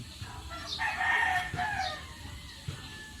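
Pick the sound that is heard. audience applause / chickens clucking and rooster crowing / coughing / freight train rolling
chickens clucking and rooster crowing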